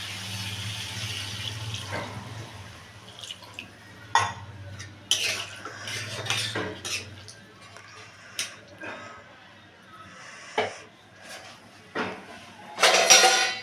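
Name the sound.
water poured into pan of egg curry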